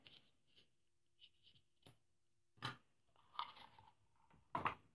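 Paper trimmed during card making, a few short crisp cutting strokes and slides at close range, sparse and irregular with quiet gaps between them.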